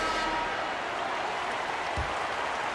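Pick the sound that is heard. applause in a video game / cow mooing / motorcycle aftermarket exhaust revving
applause in a video game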